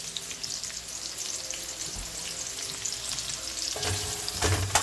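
Cabbage and tinned mackerel sizzle in a pan while being stirred, a steady frying hiss with soft scraping and a few sharper clinks and knocks of the spoon toward the end, close by with no talk.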